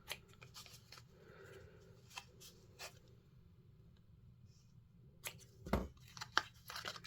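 Scissors snip ribbon for handmade shaker tags in a series of quiet, crisp cuts, close by, with rustling and small handling noises between them and no talking.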